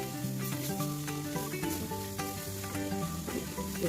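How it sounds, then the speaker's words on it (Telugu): Potatoes frying in a pan make a steady, close sizzle that runs without a break, while music plays over it. "బాగా కలిపి 2 minutes సిమ్లో పెట్టి ఫ్రై చేసుకోవాలి"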